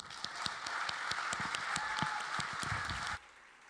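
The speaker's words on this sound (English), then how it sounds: "please give them a big round of applause" A TEDx Göteborg audience applauds for a performance: dense, steady clapping from a crowd that carries for about three seconds and then stops abruptly.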